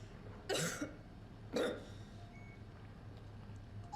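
Two short, harsh coughs from a character in the video game SOMA, about a second apart, fairly close, over a low steady hum, with no talking.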